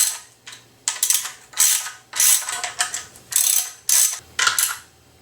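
Ratchet clicking in repeated bursts as the camshaft bearing cap nuts are run down on a BMW E36 engine, close and loud with about seven quick spurts separated by short pauses.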